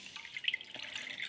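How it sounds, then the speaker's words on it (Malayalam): Water is poured into a frying pan to boil potatoes for a potato vizhukku recipe, giving a brief, soft trickle and dripping splash close by, with no talk over it. "ആദ്യം നമ്മൾ ഫ്രൈ പാനിലോട്ട് കുറച്ച് വെള്ളം ഒഴിച്ചിട്ട്"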